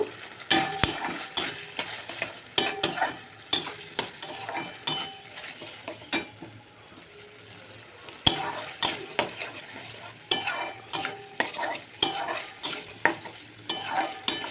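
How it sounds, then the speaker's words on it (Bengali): Chili chicken sauce with vinegar and sugar being stirred in a pan, a spoon scraping and clinking in a quick, uneven rhythm over a light sizzle, with a short quieter pause midway. "সসটা ভালো করে নাড়াবো কাঁচা গন্ধটা যতক্ষণ একটু চলে যায়"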